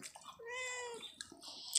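A cat meows once, a clear drawn-out call up close, followed by faint clinks and rustling in a quiet room while exotic food is eaten.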